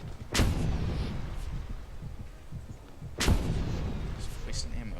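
Two heavy sniper rifle shots in Just Cause 2, a booming crack near the start and another about three seconds later, each with a rumbling tail over continuous game noise and ambience.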